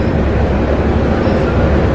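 A continuous low rumble of a train at MGR Chennai Central station, steady and fairly loud, with no clear voices.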